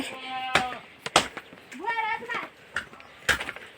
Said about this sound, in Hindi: दीदी जी ने भी बकरी रखी है और कितनी बड़ी बड़ी बकरी हो रखी है